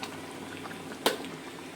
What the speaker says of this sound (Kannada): ನೋಡಿ ಫ್ರೆಂಡ್ಸ್, ಇವಾಗ ಆಯ್ತಿದ್ದು ಚೆನ್ನಾಗಿ ಕುದಿ ಬರ್ತಾ ಇದೆ.